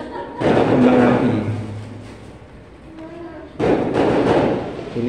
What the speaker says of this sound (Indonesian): Kembang api.